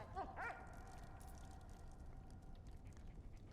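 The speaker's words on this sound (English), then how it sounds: "you can't go anywhere without a good boy woof woof" A dog in the Valiant Hearts: Coming Home video game gives a couple of short, near yips or barks at the start, then only a quiet steady background hum remains.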